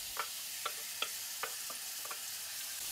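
Utensil stirring shallots seasoned with dried thyme, blended mushrooms and walnuts in a frying pan, a few light scraping ticks spaced roughly half a second apart over a faint hiss, no talking.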